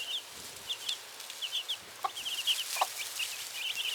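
Backyard homestead chickens cluck in quick, soft bursts, several birds close by over a quiet outdoor background.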